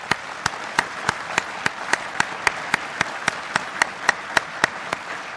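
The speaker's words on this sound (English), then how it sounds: "Let's give our non-commissioned officers a round of applause." An audience claps in a steady, sustained round of applause for non-commissioned officers at an Army change of command ceremony, with loud, evenly spaced sharp claps standing out over the crowd.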